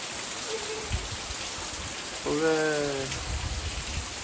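Heavy morning rain pours steadily on a farm, a dense continuous hiss throughout, with a brief tonal call cutting through midway.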